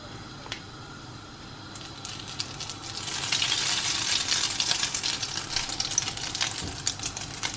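French toast, bacon and hash browns frying together in a pan, a soft crackle that swells after a few seconds into a loud, dense, popping sizzle held steadily to the end.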